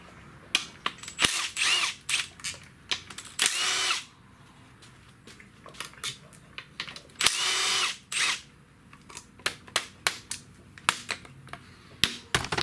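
Small pneumatic air tool working on a Chevy Cruze engine during an engine swap: many short, sharp bursts and clicks at an irregular rhythm, with a few longer whirring runs, close and loud.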